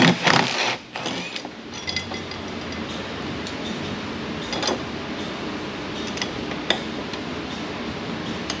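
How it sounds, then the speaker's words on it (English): A washer and nut are fitted back onto a 1995 Jeep Wrangler 4.0 4x4. A cluster of close metallic clanks sounds at the start, then a few sharp isolated clinks stand out over a low, steady mechanical rumble. "There's one washer, nut going back on."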